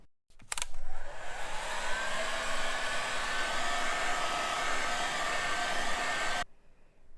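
Hair dryer blowing on a clay soap dish set in a mould, a loud steady broadband whoosh starting abruptly after a brief click, running evenly for about six seconds, then cutting off.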